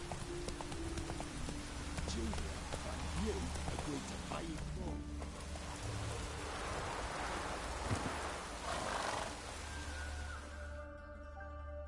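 Roach, Geralt's horse in Witcher 3, gallops with steady hoofbeats under rain and rustling ambience, loud and continuous through the scene.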